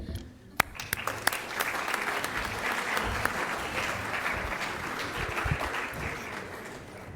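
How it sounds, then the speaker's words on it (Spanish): Steady audience applause at a Guatemalan panel event on pesticides, a continuous wash of clapping from a crowd with a few sharper nearby claps at the start. "Un aplauso para él."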